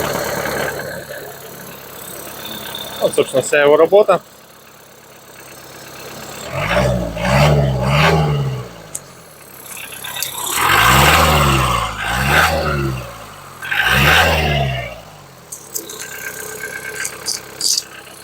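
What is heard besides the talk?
tractor engine starting and running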